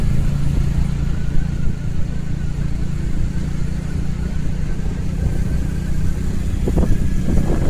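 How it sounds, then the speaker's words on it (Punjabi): Motorcycles ride along a road on the way to a jagrata, their engines a steady, loud drone throughout with no pause and no voices. "ਇਸ ਲਈ ਮੋਟਰਸਾਈਕਲਾਂ ਤੇ ਜਾ ਰਹੇ ਆ"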